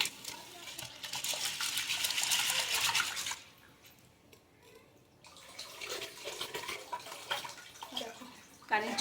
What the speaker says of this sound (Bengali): চলো মটর ডালটা আগে ধুয়ে নিই